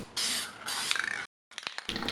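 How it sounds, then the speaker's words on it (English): Rust-Oleum Specialty Metallic Gold spray paint hisses from the can onto furniture in two close, sustained bursts separated by a brief silence, followed by a few shorter sputtering sprays. "I'm using Rust-Oleum Specialty Metallic Gold Spray Paint."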